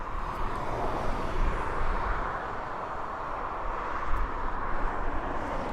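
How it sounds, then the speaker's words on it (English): A DHL Boeing 767 moves at East Midlands Airport, giving a steady, moderate engine rumble and broad noise wash, continuous and somewhat distant, with no voices. "There's the DHL 767."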